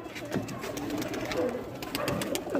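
Breeder pigeons in the Jammu region giving several short, soft low coos in quick succession, close and quiet over steady background noise.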